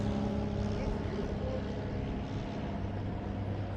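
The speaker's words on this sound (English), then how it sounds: "There's a couple smaller planes coming in" Small propeller planes approach near Anchorage, a steady droning engine rumble that holds at a moderate, fairly close level over an outdoor trail with no talk.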